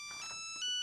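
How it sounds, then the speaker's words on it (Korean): A mobile phone ringtone plays as a sound effect in a radio drama, a steady electronic melodic ring with sustained tones that swells slightly louder toward the end, heard alone without voices. "아버지 휴대폰으로 울리는 전화."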